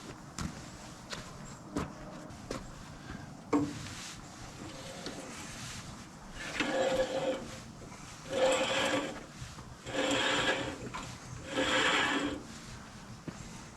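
Sawmill band wheels on a Woodland Mills HM130 Max are spun by hand after the blade is tensioned, giving a series of soft, rhythmic whirring and rubbing passes. Scattered clicks and knocks come first. The sound is fairly quiet and close.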